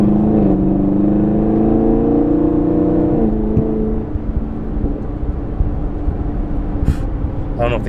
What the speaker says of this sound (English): So we can get this crackle on film.